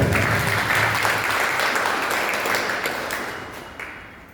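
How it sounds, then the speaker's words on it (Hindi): Loud applause from a seminar audience, a dense wash of clapping that holds strong and then slowly fades toward the end. "सीधा मैं बुलाता हूं, जोरदार ताली से दिया करता हूं।"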